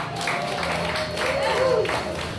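A crowd applauds a band at the Aztec's 13th anniversary live music show: dense, steady clapping fills the whole stretch while a voice speaks over it.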